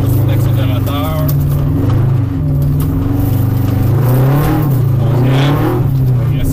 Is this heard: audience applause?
no